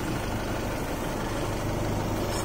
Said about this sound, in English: Engine sounds like it's running great.